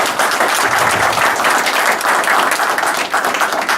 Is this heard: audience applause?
yes